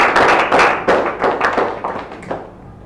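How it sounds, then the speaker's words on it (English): A group of new students claps for a classmate in a lecture hall with a short burst of brisk, uneven clapping that starts loud and fades over a few seconds. "Please, can you clap for her?"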